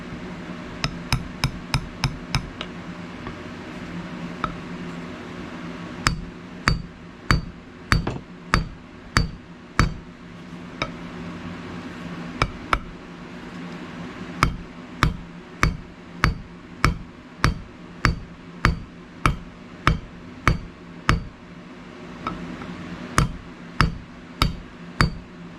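Sharp metallic hammer taps setting pins into the handle of a 1918 WWI bolo knife, struck in quick bursts then in a steady rhythm of single blows, close and clear with no talking.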